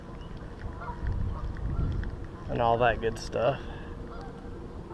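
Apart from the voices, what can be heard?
geese honking in a park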